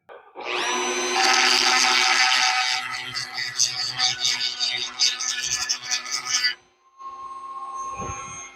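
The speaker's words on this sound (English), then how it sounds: "Go ahead and grind this." A power tool grinds burnt plastic on the handle of a Chefman air fryer. It runs as a loud, steady whine for about six seconds, then cuts off, leaving brief faint handling noise.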